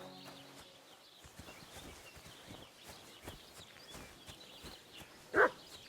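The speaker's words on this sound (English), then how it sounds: "What are you barking at, Tuggy?" A single loud bark from Tuggy, a dog in the video game Kingdom Come: Deliverance 2, comes near the end, after soft footsteps and hoof-like clopping in the background.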